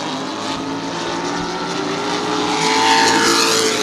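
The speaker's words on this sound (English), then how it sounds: "these cars go thundering around the track" Modified race cars roaring around New Smyrna Speedway during a feature race, a loud continuous engine drone that swells as the pack passes close by, with no talk.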